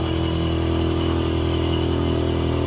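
A motorcycle-powered tricycle cruises in second gear at about 25 kph and 6,000 rpm on a long uphill ride, its engine droning loud and steady up close with an even, unbroken hum.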